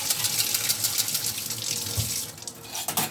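Tap water runs steadily into a basket rinsing strawberries, a loud continuous splashing gush with a few clunks near the end.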